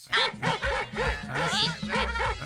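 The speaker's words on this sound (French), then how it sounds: "c'est les chiens." Dog barking sound effect from a low-budget animated film, a steady run of repeated loud barks, close and clear, with no talk over it.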